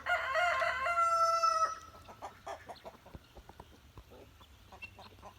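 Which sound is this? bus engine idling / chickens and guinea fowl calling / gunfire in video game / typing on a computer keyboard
chickens and guinea fowl calling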